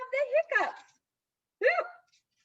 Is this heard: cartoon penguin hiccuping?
yes